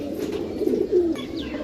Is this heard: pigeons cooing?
yes